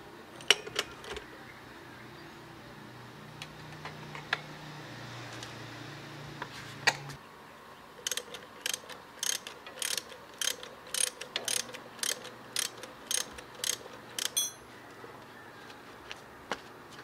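A 17 or 19 ratchet wrench loosening bolts on a Keeway CR152 motorcycle during a sprocket swap: soft mechanical clicks at first, then a long run of rapid, regular ratcheting clicks, close and clear.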